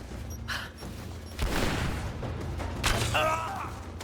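Gunfire in the video game Rise of the Tomb Raider: bursts of shots and thuds in a busy firefight, with louder blasts near the middle and end over a low rumbling background.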